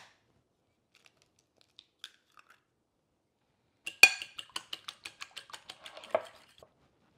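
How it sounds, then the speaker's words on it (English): An egg being lightly beaten in a bowl: a few isolated clicks, then a quick run of about a dozen sharp, evenly spaced whisk taps against the bowl, close and otherwise quiet. "here we are going to lightly beat an egg"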